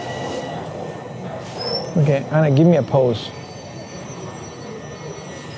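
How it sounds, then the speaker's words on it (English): Toronto subway train arriving, a steady rumble of cars on the rails under a person speaking, with a brief wheel squeal rising midway. "here comes the train"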